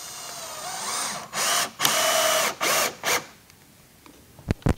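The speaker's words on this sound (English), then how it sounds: "that drill is not loud" A power drill whirs in several short bursts, driving screws into wood for raised garden beds, then falls quiet before a couple of sharp clicks at the end.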